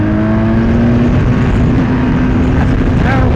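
2024 BMW R 1250 RS boxer engine droning loud and close at speed under strong wind rush, its steady tone dipping slightly as the quick shifter changes gear.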